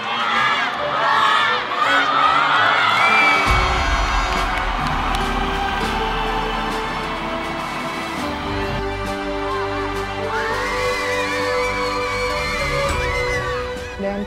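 A loud crowd of students cheers, screams and shouts nonstop after a high school basketball final in Bali, a dense roar of young voices filling an indoor arena.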